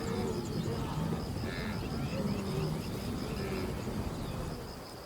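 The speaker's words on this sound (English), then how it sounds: "The sound of hooves, at first hesitant, soon merges into a single continuous thunder." A migrating herd's hooves make a continuous low rumble like distant thunder on the savanna, steady and fairly loud, fading slightly at the end, with faint insect or bird chirps above.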